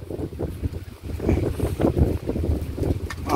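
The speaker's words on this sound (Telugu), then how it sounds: "వాన మొగలు అయింది, గాలి వస్తుంది బాగా" Strong wind gusts buffet the microphone with a loud, rough, fluctuating roar that swells and dips throughout, with no talking.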